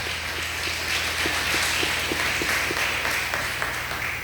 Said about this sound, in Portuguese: Podeis louvar ao Senhor com as palmas